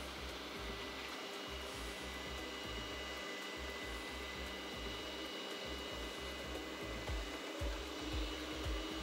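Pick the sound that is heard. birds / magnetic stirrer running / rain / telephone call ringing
magnetic stirrer running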